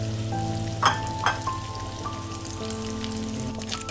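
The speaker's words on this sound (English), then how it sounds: "Just fry them at medium heat initially." Ikan bilis (dried anchovies) sizzle steadily in hot oil at medium heat, a soft continuous crackle with a few brief louder pops near the start.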